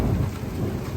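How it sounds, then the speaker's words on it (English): Heavy rain and hail pelting down during a storm on a rural rail trail in South Dakota, with a steady loud wash of impacts and low rumbling throughout, no voices. "There's some big hail that came down."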